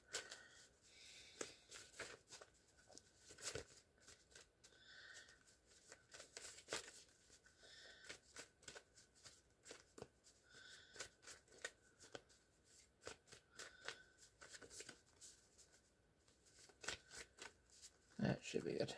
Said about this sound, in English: I'm going to give these a quick shuffle.